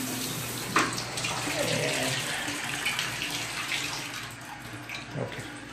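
Water from a shower runs steadily into a bathtub, a continuous broad hiss with splashing that stays fairly loud throughout, with a few brief knocks and a faint voice in the background.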